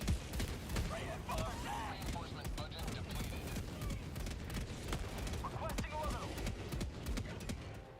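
An Eagle strafing run in the game Helldivers 2 sends a rapid barrage of sharp gunfire impacts, partly masked by steady talk and other battle noise.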